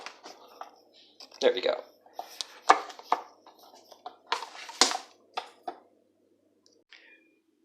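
A knife chops through double chocolate cookie dough in a series of uneven, crisp knocks against a board, some louder than others, with brief talk over them.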